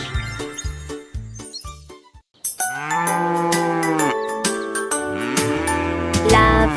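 A cow moos several times amid a French children's song about a mouse riding a rocket, with bright chiming and tinkling tones around the calls and lively music filling most of the stretch.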